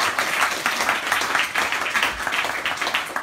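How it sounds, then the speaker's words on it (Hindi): A congregation claps loudly during a devotional talk on Hari kirtan, a dense continuous burst of applause from many hands filling the room without letup. "इसलिए आप इन्हीं के लिए जोरदार ताली बजाओ।"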